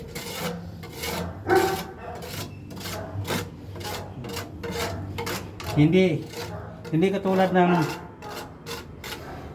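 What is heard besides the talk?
hand saw cutting plywood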